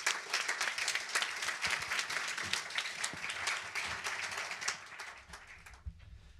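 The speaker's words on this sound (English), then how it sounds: "maybe we can give a round of applause before I hand off to you" A conference audience gives panellists a round of applause at a climate and shipping event, a full, even burst of many hands clapping that carries for several seconds before thinning and fading out at the end.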